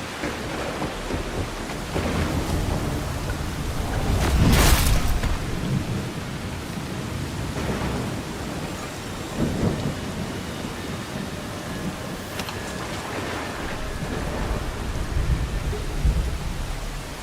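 Steady rain pours down in a video game, with a loud rolling thunderclap near the middle and softer rumbles later under the continuous downpour.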